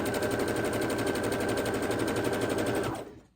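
A sewing machine stitches leftover quilt fabric strips in a steady, rapid mechanical hum and needle rattle, close and loud, running continuously before stopping abruptly near the end.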